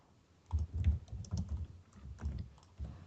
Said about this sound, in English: someone's typing ferociously